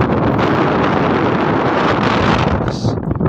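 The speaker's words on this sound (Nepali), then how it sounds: "हेर्नुहोस् हावा चलेर आमा ल हेरिनसक्दो" Strong mountain wind on the road to Zero Point above Lachung, Sikkim, roars continuously, buffeting the microphone with a loud, rough rumble that barely lets up.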